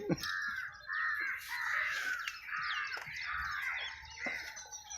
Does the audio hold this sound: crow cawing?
yes